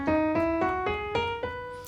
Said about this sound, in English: It's the classic Do, Re, Mi, Fa, Sol, La, Si, Do.